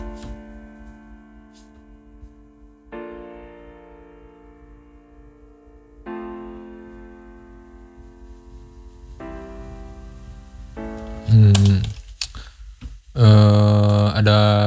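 Piano chords played in a music production session for a ballad, sustained notes changing every few seconds, then brighter, louder struck chords near the end.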